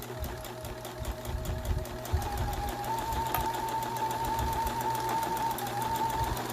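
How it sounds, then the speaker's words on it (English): Sewing machine stitching a fabric mask along its edge and over elastic, a steady close mechanical whir with rapid needle chatter running throughout. "we're going to just continue sewing all the way up to the other edge."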